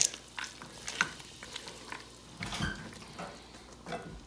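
Green beans stirred into a pot of homemade soup with carrots and peas, a spoon scraping and clinking against the pot while the contents lightly bubble and slosh, close and fairly quiet, with no talking.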